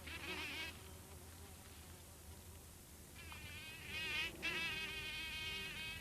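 A bumblebee buzzes close by in a garden setting, its droning hum starting at once, fading out for a couple of seconds, then returning louder and wavering in pitch.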